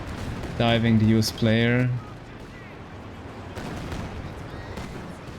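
A Katyusha rocket artillery barrage in a strategy video game rumbles as a steady, moderately loud wash of distant blasts, after a voice speaks briefly at the start.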